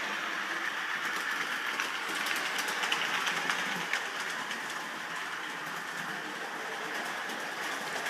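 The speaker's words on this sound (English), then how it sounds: "there is the train coming round" A model train runs around a layout during a scheduled run, giving a steady, continuous rolling noise with faint clattering across the whole stretch and no talking.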